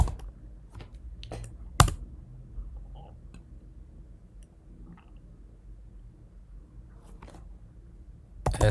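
Terminal commands are typed on a computer keyboard as quiet, irregular key clicks, with a few sharper louder strikes and a soft thud at the end, in a still room with no talking.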